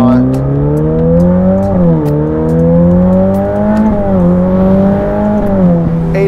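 Novitec Ferrari F8 N Largo's 3.9-liter twin-turbocharged V8 drones loud and steady from inside the car, its pitch rising and dipping as the throttle changes, a sustained engine note with no pauses.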